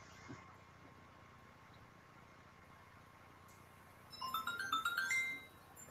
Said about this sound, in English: That was my text message from my father who picked up some waterproofing paint for me.